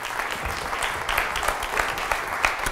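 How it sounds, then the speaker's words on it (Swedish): Steady applause from an audience, a dense patter of many hands clapping at even volume throughout. "Ge Charlotte en applåd"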